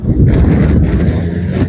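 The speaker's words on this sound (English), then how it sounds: "It's quite windy today," Steady wind buffeting the microphone on a hot day at a garden in Perth, Western Australia, a continuous low rumble and rush throughout.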